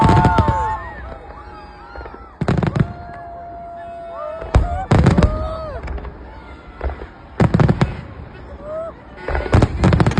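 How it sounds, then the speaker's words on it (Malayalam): Repeated loud New Year fireworks bursts boom at irregular intervals after a drone show at the Sheikh Zayed Festival, Al Wathba, UAE. Whistling and crackling between them, with a crowd murmuring in the background. "ഡ്രോൺ ഷോ കഴിഞ്ഞത് വെടിക്കെട്ട് സ്റ്റാർട്ട് ചെയ്തു കേട്ടോ."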